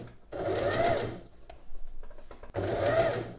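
A sewing machine runs in two steady bursts of rapid stitching, stitching a narrow rolled pin hem along a fabric edge under the presser foot, with a quieter pause between the runs.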